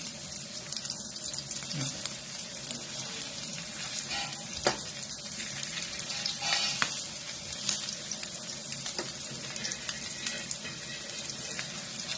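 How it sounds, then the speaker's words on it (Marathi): Coated fish fries in hot oil in a home kitchen, a faint, steady sizzle and crackle running throughout, with a few soft clinks and bumps from handling the pan. "आपण जे कोटिंग केलेलं आहे ते आता आपण फ्रायला द्यायचं आहे"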